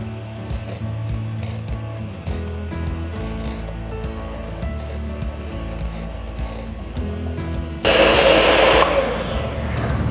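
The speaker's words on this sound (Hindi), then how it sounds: "अब इन्हें मैं बीट कर लूँगी।" An electric hand mixer beats egg whites with sugar, a steady close whirring drone that grows louder and harsher toward the end as the speed rises.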